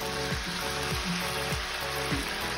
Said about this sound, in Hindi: कलछी डाल के अब उसी से हम थोड़ा थोड़ा मालपुए डालेंगे थोड़ी थोड़ी दूर पे, एकदम मीडियम हीट पे